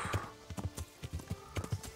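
Horse hooves clip-clop at a steady trotting rhythm while riding in the video game Kingdom Come Deliverance, a regular run of moderately loud hoofbeats with no talk over them.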